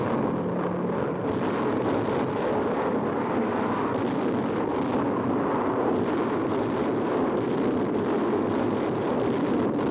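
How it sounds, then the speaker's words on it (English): Delayed-action bombs dropped by low-flying B-25s bursting in a WWII air raid, a continuous heavy rumbling roar of distant explosions blending together without clear gaps, loud and steady throughout. "low-flying B-25s unload tons of delayed action bombs"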